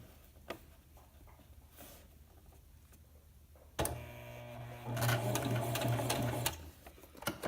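Sewing machine running a straight stitch along a rolled hem on a down quilt for an insulated hammock. After a few quiet clicks, the motor starts and a steady mechanical whir with rapid needle tapping continues to the end.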